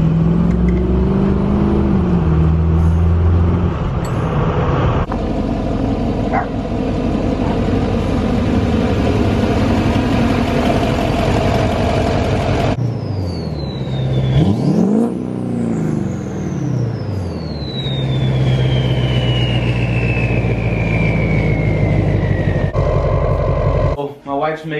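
Duramax diesel pickup fitted with a 68mm turbo, heard from inside the cab: a loud, steady engine drone with rising and falling revs and a long descending turbo whistle, continuous throughout.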